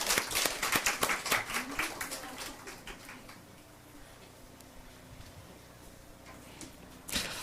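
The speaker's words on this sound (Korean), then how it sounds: "예, 박수로 한번 다시 환영합니다." A church congregation gives a burst of welcoming applause that starts fairly loud and quickly thins to scattered claps, then fades into quiet room sound before a final brief clap.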